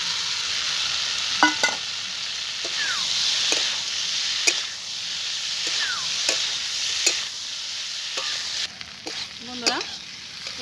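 Pasta made with wheat flour sizzles in a pan as a spatula stirs it in with a fried egg, giving steady close frying hiss and intermittent scraping and tapping strokes.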